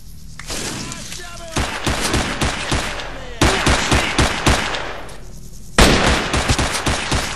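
Bursts of machine gun fire in S.T.A.L.K.E.R., sharp and close, coming in quick rhythmic volleys with short gaps between them, and a voice now and then beneath the shooting.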